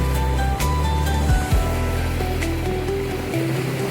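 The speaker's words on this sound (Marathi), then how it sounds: "ही लाटा इथपर्यंत येतात म्हणजे, कारण की सीवीड इथपर्यंत आलेली आहे, त्यामुळे खूप उंचवर लाटा येतात." Ocean waves washing onto a beach in Nova Scotia, Canada, where seaweed has spread along the shore: a steady, close wash of surf that rises and falls over a low rumble, with no voices.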